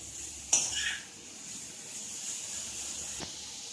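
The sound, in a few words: stir-frying vegetables for spring roll filling in a pan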